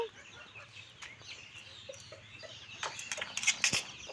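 Backyard domestic hens cluck in soft, scattered calls at close range, with a few louder squawks near the end over faint rustling.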